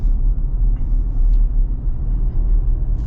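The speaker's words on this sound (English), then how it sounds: "Do get a little bit more noise from the tires so far" Tire and road noise heard from inside a lifted 2024 Toyota Tacoma with a leveling kit, a steady low rumbling drone with a faint hiss above it, continuous and fairly loud.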